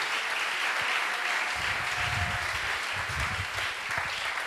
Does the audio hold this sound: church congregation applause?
yes